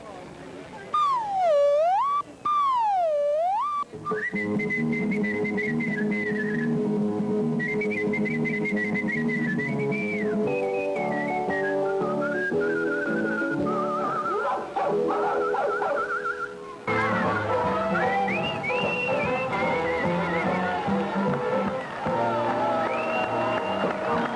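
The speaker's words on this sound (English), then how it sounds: "I blow across the tiny slot between my thumbs, and the air hits this little finger here" A hand whistle blown between cupped thumbs, loud and close, warbling up and down before steady melodic notes with brief pauses.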